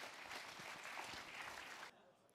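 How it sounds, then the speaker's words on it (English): A conference audience claps in a steady round of applause for a speaker at a graphic design talk, the clapping sustained and fairly even before cutting off abruptly near the end. "Round of applause, guys."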